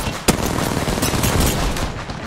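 Video game gunfire crackles loud and dense in a battle royale match, with one sharp shot standing out early and rapid bursts continuing under a steady wash of noise.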